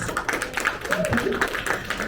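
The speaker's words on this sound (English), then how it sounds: "Can we give him a round of applause?" An audience at a company quarterly review claps for a top-performing colleague, giving a steady run of hand claps in a room, with speech mixed in over the applause.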